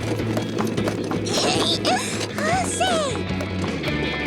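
Cartoon horse hooves clip-clop at a steady trot while squeaky mechanical sounds and chirpy tones rise over them, with some voice in the mix.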